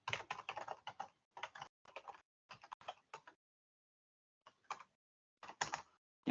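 Someone types on a computer keyboard while operating the JS8Call amateur radio program: quick bursts of close, crisp keystrokes separated by short pauses, with a longer gap before a few last clusters of taps.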